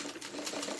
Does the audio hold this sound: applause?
no